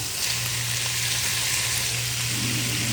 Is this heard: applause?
no